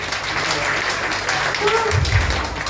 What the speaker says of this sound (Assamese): জোৰদাৰ এটা ক্লেপ দিয়ক সিহঁতৰ কাৰণে